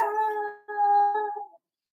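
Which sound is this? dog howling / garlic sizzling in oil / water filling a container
dog howling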